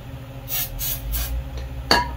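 Short hissing bursts of spray as fuel is squirted into the carburetor of a Toro push mower that won't run, three close pulses followed by a brief metallic clink.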